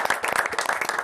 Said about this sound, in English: Maybe a final round of applause for Craig.